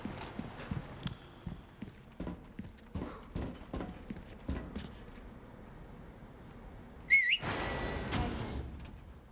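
In the Resident Evil 4 Remake game, a horse's hooves clip-clop in a steady walking rhythm, then a short, sharp whistle rings out, followed by a burst of rustling and movement, all fairly quiet with no talking.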